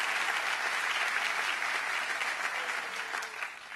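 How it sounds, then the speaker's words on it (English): A crowd at a governor's State of the State address breaks into applause, a dense, steady roar of clapping that tapers off near the end. "Let's give him a round of applause."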